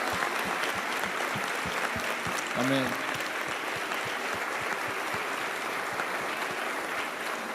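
A church congregation applauds during a sermon, a steady broadband wash of clapping that runs throughout, with a preacher's voice briefly rising over it.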